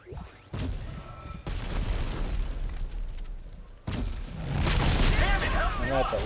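Rocket explosion in the sci-fi shooter Dead Space 3, played on hardcore mode: heavy broadband booms and blasts hit near and loud, with a sharp burst around four seconds, amid ongoing combat noise and someone talking over it.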